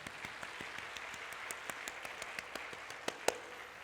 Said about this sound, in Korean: 우리 아버지를 향해서 박수 한번 하십시다.